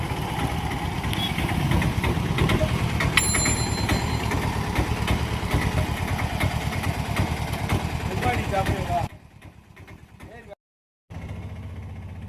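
A Piaggio Ape auto rickshaw with a worn clutch plate runs with a steady, rattling engine drone close by. Talk carries over it, and the engine sound drops off sharply near the end.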